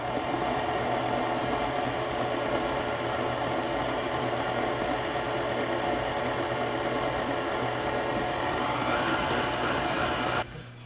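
Electric mixer on low speed whipping buttercream frosting, a steady unbroken whirring hum that continues for several seconds and cuts off near the end, with no talking.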